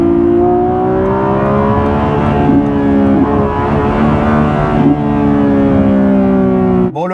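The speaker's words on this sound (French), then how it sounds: "le moteur, il est en train de ronronner." A car engine purrs at a steady idle close by, a continuous low hum with even harmonic tones that holds for several seconds before a brief sharp change at the end.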